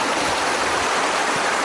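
River rapids churn in a steady, loud rushing roar of turbulent water, close by and continuous with no other sounds.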